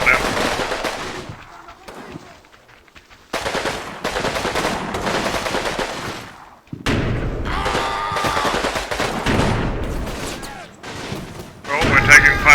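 Sustained gunfire from the Combat Mission wartime strategy game, loud bursts of rifle and machine-gun fire with booming impacts, continuous over several seconds with a brief lull.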